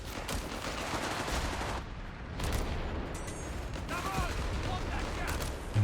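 An MG42 machine gun in a Company of Heroes 3 battle rattles off dense, sustained bursts amid other gunfire, pausing briefly before resuming; a commentator talks over the shooting.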